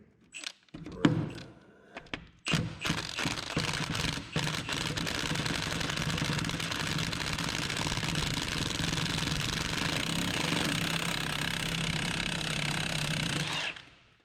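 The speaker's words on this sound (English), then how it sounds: "Since it's an impact socket, you might as well use an impact, right?" Impact wrench on a 1 inch impact socket pulling spark plugs from an abandoned 1935 Ford coupe flathead V8: a few clunks and short hammering bursts, then a long steady rattling buzz running about eleven seconds before stopping abruptly.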